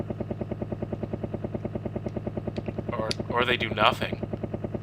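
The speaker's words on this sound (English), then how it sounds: "the helicopter goes like beneath the window, rises up" A helicopter from a Final Fight 3 cutscene rises past a building window with a loud, steady chopping rotor pulse. A voice speaks briefly over it near the end.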